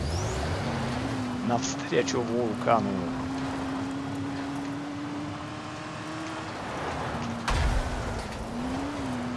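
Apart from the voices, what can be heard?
car driving in the video game Dying Light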